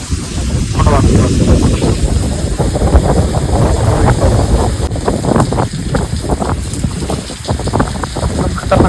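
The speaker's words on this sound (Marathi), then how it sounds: "लय पाऊस जोरात चालू आहे आवाज पण तुम्हाला येत नसेल पूर्ण वाऱ्याचा आवाज येत" Strong wind during heavy rain roars and buffets close to the microphone in continuous gusty rushes, with a person talking over it.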